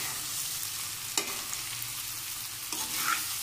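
Potato fry with curry leaves stirred in a hot pan, with a steady close sizzle and a couple of sharp scraping strokes from the spoon and no talking.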